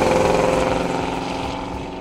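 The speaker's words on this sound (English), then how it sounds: "this car delivers with performance and a great exhaust note that never gets old" A 1974 Plymouth Duster's small-block V8 rumbles through its exhaust in a close, steady, throaty drone that eases slightly in volume over a couple of seconds.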